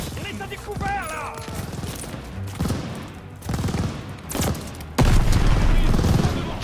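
Gunfire from Call of Duty Vanguard bursts in repeated volleys and heavy booms, with a loud sustained barrage toward the end, while players talk over the shooting.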